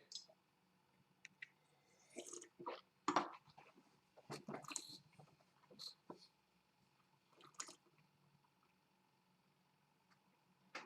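Josh Cellars Cabernet wine is swished around a mouth, close and quiet, as intermittent wet slurps, squelches and clicks in short bursts separated by silence.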